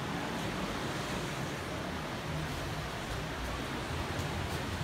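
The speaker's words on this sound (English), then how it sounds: "I can hear the breezes from here." Sea breeze and ocean waves at a Montego Bay, Jamaica resort make a dense, unbroken roar of surf and wind rush, loud and steady throughout, with no talking.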